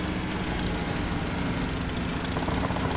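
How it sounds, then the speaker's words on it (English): Helicopter in a military video game scenario, heard as a constant dense rotor and engine roar filling the whole clip, steady and fairly loud with no talking. "One more here, the helicopter."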